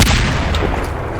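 A grenade explodes in the video game Benefactors, one sharp loud boom at the start that decays quickly into a rumbling tail.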